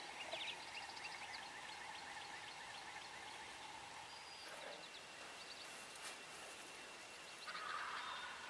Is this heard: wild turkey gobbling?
yes